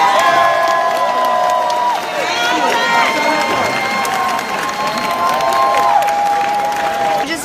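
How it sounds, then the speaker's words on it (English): A large crowd at the California Democratic Party state convention in Sacramento in 2017 cheers, whoops and applauds loudly and continuously after a resolution passes, with whistles cutting through the roar. "It got the most applause of anything here"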